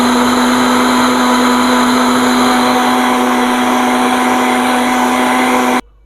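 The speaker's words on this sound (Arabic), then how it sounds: "عشان نتاكد ان هم اختلطوا مع بعض على الخلاط" A blender mixes mango, apple and tonic water with a loud, steady motor whir that runs for almost six seconds and then cuts off abruptly.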